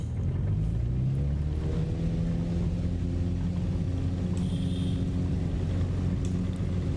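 An NX Cub aircraft engine at full throttle in the MSFS 2024 simulator, departing Bugalaga airstrip in Papua, Indonesia, holds a loud, steady low drone with a breathy wind-like rush.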